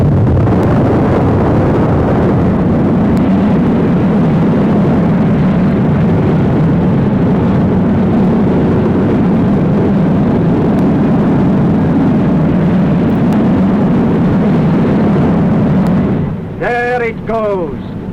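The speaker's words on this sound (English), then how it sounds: "The force of the explosion was to blow off the top of the wellhead" A huge explosion at an oil wellhead blows off the top and the steel drill pipe, giving a loud, sustained roaring rush that holds steady for many seconds before easing off at the end.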